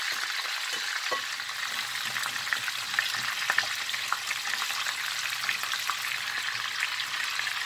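Chicken searing in a pan, making a steady, close, continuous sizzle with a few faint pops and crackles throughout.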